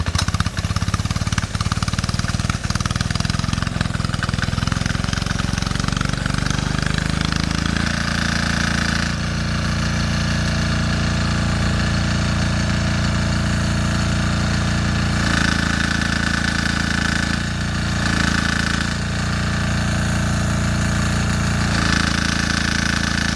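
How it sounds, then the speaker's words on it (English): A Sears SS16 diesel pressure washer engine runs loud and steady nearby, a rough throbbing drone that shifts pitch slightly as it settles, with no talking. "a diesel, it's a little trickier to start because you got to hold down the wand"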